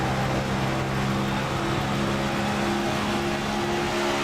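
A NASCAR Cup race car in iRacing at Auto Club Speedway roars loudly and steadily as it accelerates, a sustained droning engine tone with strong harmonics that holds without a break.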